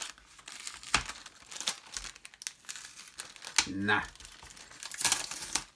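Sticky tape is peeled off a Lego Batman Movie magazine issue that holds a limited Batman figure. The close, crackling rips and crinkles come in short bursts while someone talks over them.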